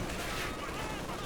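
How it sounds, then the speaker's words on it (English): Panzer Grenadiers fire an MG42 machine gun in Company of Heroes 2, a dense, continuous rattle of battlefield gunfire that runs throughout under a commentator's talking. "Getting an MG42. Panzer Grenadiers firing away."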